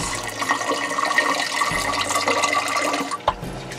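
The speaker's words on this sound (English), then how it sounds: "So now we're going to rinse out the broccoli seeds." Water pours and splashes into a container of sprouting broccoli seeds being rinsed, a steady close running-water sound with a slosh near the end.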